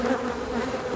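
Honeybees from overwintered swarms in an opened coastal hive give off a steady, close droning hum with no voices.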